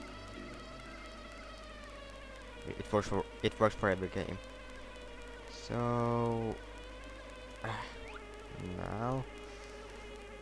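Bees buzzing around a beehive in the Banjo-Tooie video game, heard as short, rising electronic buzzes in several bursts, with a longer steady drone in the middle, under someone talking.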